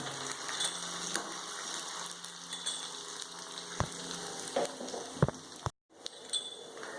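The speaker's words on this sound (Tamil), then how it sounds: "கொஞ்சம் முருவிரிச்சு வெங்காயம் வெந்தயத்தை ஆட் பண்ணிடுங்க." Onion and fenugreek seeds fry in oil in a home kitchen, giving a faint steady sizzle with a few sharp knocks of stirring and a brief gap of silence near the end.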